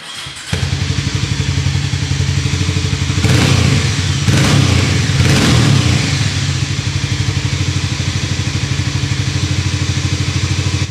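A Harley-Davidson X440 motorcycle engine rumbles steadily with a deep, pulsing exhaust note, swelling louder for a few seconds midway before settling back to a throaty idle.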